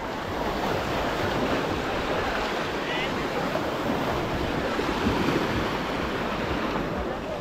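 Sea waves wash over a sandy beach where rental boats and catamarans float tied nearby, a constant loud roar of surf mixed with wind buffeting the microphone.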